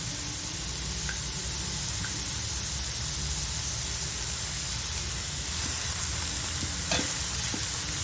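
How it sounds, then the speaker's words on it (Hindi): Grated bottle gourd fries in a hot pan with a steady, close sizzle while it is stirred, with faint scrapes and clinks of the spoon throughout and no voices. "1 मिनट मिक्स करके अच्छी तरह से फ्राई कर लीजिए।"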